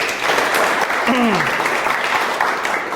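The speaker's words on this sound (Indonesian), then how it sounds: "Tepuk tangan buat Salma" Listeners at a teaching-practice session clap for a participant named Salma. Loud, steady clapping runs throughout, and a short rising and falling vocal sound cuts through it about a second in.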